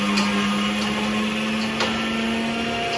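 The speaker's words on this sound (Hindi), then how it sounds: "सारे चने इसी तरह ब्लेंडर में डाल के ना ब्लेंड कर रहे हैं" An electric blender grinds chickpeas in a home kitchen, a loud continuous motor whine holding steady throughout with slight rattles of the beans, no talking.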